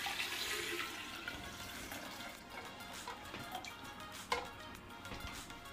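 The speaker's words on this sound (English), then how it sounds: "I'm gonna add my four cups of water into the blender" Water pours steadily into a blender for several seconds in a continuous rushing splash, with a brief clatter near the end.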